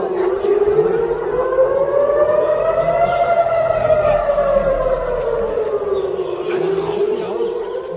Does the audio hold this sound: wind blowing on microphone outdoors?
no